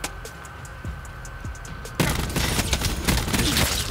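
Burst-fire weapon shots in Black Ops 4, the Swordfish or ABR 223, ring out as quick clustered bangs, sparse at first, then a dense, louder volley over the second half, with no voices.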